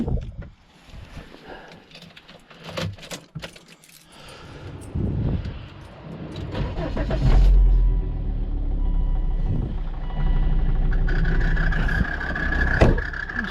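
A 2003 Volvo XC90 engine, freshly refitted with a new thermostat, turns over after a few quiet clunks and catches, settling into a steady, close, low rumbling idle that runs on unbroken to the end.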